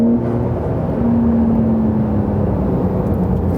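A Porsche 911 of the 992 generation cruising along a country road, giving a steady, loud engine drone with a sustained low hum and road rumble and no one speaking.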